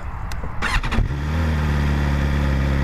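A 2023 BMW S1000XR TE motorcycle cranks over with a few quick whirring starter bursts, then its engine catches and settles into a loud, steady, low idle close by.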